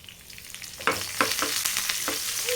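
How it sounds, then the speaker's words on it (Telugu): Fenugreek seeds, dried red chillies, cumin and curry leaves fry in a hot pan for sambar spice powder, with a steady close sizzle and several sharp crackling bursts as they are stirred. "ఇప్పుడు ఇవైతే మంచిగా ఫ్రై అయిపోయాయి"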